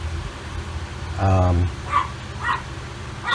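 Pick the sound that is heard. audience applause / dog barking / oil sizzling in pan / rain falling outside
dog barking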